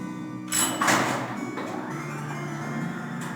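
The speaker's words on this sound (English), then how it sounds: "As you can tell, the elevator sounds a bit normal." An elevator in the Nancy Drew game Treasure in the Royal Tower starts with a mechanical clunk and a door slide, then settles into a steady low hum and rumble that carries on alone.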